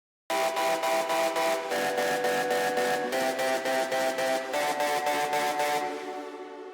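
Bright synth chords pulse in a steady, rapid stutter, loud and close, holding and changing harmony before trailing off at the end.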